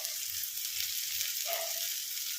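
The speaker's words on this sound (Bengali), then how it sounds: "আমি গাজরটা ভেজে নিই।" Carrot pieces fry in a pan for mixed fried rice, giving a soft, even sizzle that runs continuously at low level with faint stirring and no voices.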